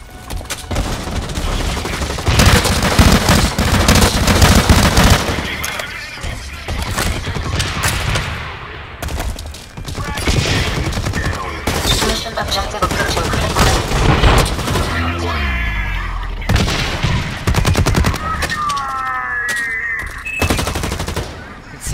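LMG gunfire in the video game Blacklight Retribution rattles out in loud, rapid bursts, broken by brief pauses and mixed with other sharp in-game effects.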